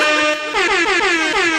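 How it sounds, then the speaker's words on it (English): Air horn blasts: one sustained honk followed by a rapid series of pulsing, rising horn bursts, loud and close, with no voices. "Air horns."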